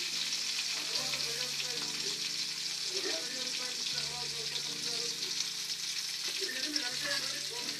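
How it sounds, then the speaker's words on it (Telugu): Fish frying in hot oil for Guntur-style fish fry, a steady dense sizzle and crackle running throughout at close range, with faint low background hum and no clear talk. "ఇలా చక్కగా రెండు వైపులా దోరగా బంగారు రంగులో వేగిన తర్వాత"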